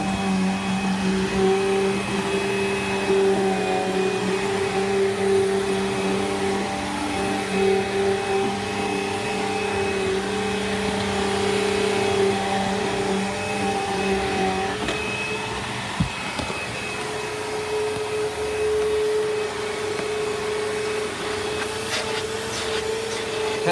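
A Bissell Rewind SmartClean upright vacuum cleaner (58F8-3) running steadily, loud motor whine and airflow held throughout with slight pitch shifts as it moves, no talking.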